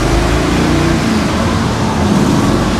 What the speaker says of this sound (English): Now she wants to rev up.